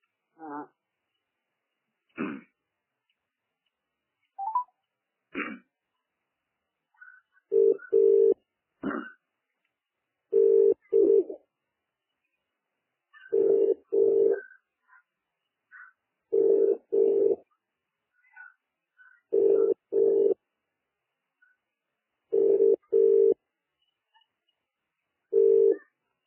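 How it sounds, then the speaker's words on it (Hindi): Telephone call being placed: a short burst of dialing tones, then a repeating ringback tone in evenly spaced paired pulses about every three seconds, clear and fairly close, with no talking over it. "मुश्ताक फोन करिए"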